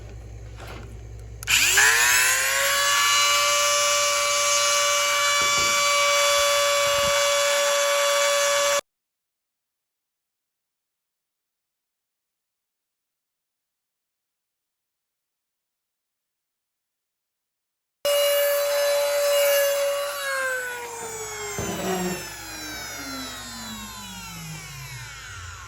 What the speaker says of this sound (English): I need to open this up ever so slightly. So I'm going to use the aluminum burr on the Dremel.